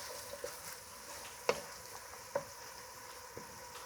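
Onions sweat in a covered pan, a faint soft sizzle with a few light pops and clicks over a quiet background.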